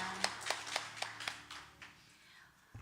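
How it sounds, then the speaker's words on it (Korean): A church congregation claps in a quick burst, about seven sharp claps at an even pace, faint and roomy, before the hall falls quiet. "축복의 박수 서로 나누겠습니다"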